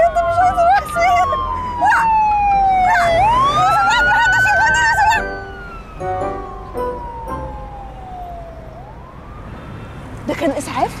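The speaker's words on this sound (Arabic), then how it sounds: "ده كان اسعاف؟" An ambulance siren wails and sweeps in pitch close by, loud and steady for several seconds, then fades and slows as it passes, with people talking over it and street noise around.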